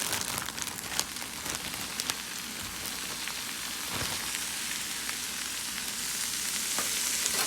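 About 1.5 pounds of ground beef sizzles steadily in a pan with sauteed onions and bell peppers for spaghetti, a dense, continuous crackle that grows slightly louder toward the end, with no talking.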